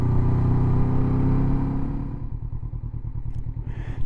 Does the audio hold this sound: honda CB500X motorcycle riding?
yes